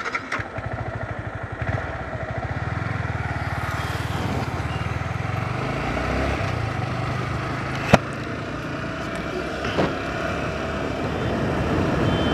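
A Yamaha R15 V3 motorcycle ridden on the NH34 highway: a loud, steady engine drone with wind rush and road clatter, a sharp knock near the middle, heard up close throughout with no talk.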